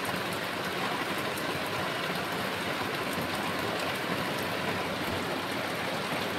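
Heavy rain falls at night in a steady, unbroken roar of dense hiss, loud and close, with no voices or other sounds rising above the downpour.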